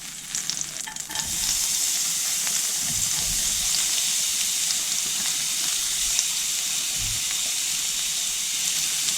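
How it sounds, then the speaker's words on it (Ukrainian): Chopped onion fries in butter in a pan with a loud, steady sizzle and crackle, beginning after a brief quieter moment and holding evenly throughout. "Ложку вершкового масла та буду обсмажувати цибулю"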